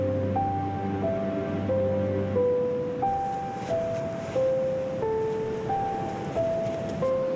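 Ocean waves wash onto the shore in the wild in a steady, rolling surge, heard alone at moderate volume along with some wind, while musical tones play over them.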